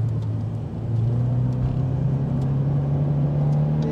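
A Toyota 86 drifting under throttle, its engine holding a loud, steady rev that climbs gradually in pitch, heard up close from inside the car with brief faint ticks over the drone.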